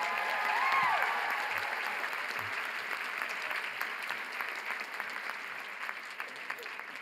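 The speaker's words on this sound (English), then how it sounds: "Another round of applause." Sustained audience applause at a college commencement ceremony, a dense wash of clapping from a large crowd that is loudest at the start and slowly thins over several seconds, with some voices mixed in.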